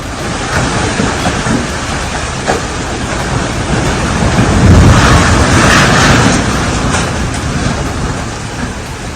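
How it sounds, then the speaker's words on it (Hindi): Heavy rain pouring in Dehradun, Uttarakhand, a loud dense roar of falling water with a swelling surge midway, steady and close throughout with no voices. "उत्तराखंड की राजधानी देहरादून में भी जोरदार बारिश हो रही"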